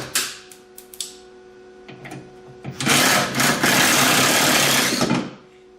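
A power driver backs T27 Torx screws out of a 2002-2005 Ford Explorer door, with short whirring bursts and clicks early on followed by a longer, louder sustained spin close by.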